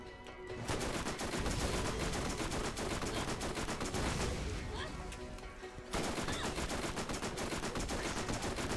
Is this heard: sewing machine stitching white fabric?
no